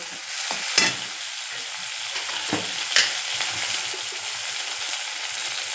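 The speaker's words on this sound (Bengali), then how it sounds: "টমেটোটাও ওকে ভেজে নেব" Tomato fries in a pan with a steady, moderate sizzle, broken twice by sharp scraping clicks of a utensil stirring. The cooking sounds stay close throughout, with no speech.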